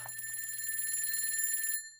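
An alarm in the video game Night Cascades keeps ringing as a steady, bright electronic trill, fairly quiet and unbroken, then cuts off abruptly near the end.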